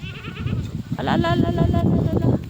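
A goat bleats on a farm near its newborn kid, a close, wavering bleat rising over a person speaking and background noise.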